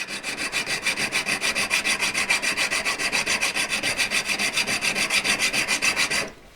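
A hand file rasps across a metal V-claw held in pliers in steady, evenly spaced back-and-forth strokes, loud and close, for about six seconds before stopping abruptly.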